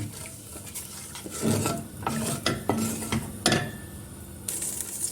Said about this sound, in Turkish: Şöyle bir karıştırdıktan sonra kaynamasını bekliyorum.